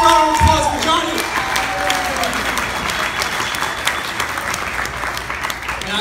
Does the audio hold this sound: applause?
yes